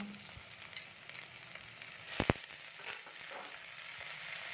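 Chopped potatoes and vegetable stems fry with onions in a pan, a quiet steady sizzle with a few scraping stirs and a short clatter midway.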